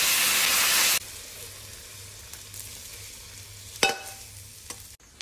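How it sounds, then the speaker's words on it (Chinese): Beef stir-fried with cumin and onion in a home kitchen: a loud, close sizzle bursts for about a second, then settles into quieter frying with a steady low hum and a sharp utensil clack near the end. "老妈在这炒菜呢，孜然、洋葱、牛肉。"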